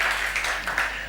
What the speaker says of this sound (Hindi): तुम लोग तालियां तो बजा दो